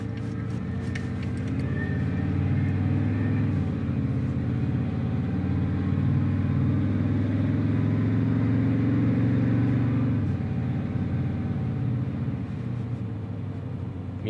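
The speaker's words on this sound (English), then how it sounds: "I still hear that power steer pump whining." Inside a moving dually truck with a whining power steering pump, a steady engine drone that swells and eases, with a faint tonal whine riding over the cabin rumble and no talking.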